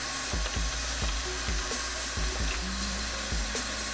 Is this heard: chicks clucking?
no